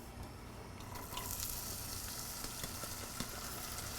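Onions sizzling in a pan, a quiet steady hiss with faint crackles and a few small clicks, no one speaking.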